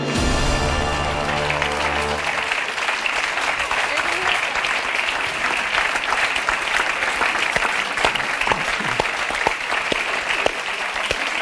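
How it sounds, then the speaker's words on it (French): Studio audience of a French quiz show bursts into sustained applause after a brief musical sting, dense clapping continuing at an even level for about ten seconds. "Je vous applaudis"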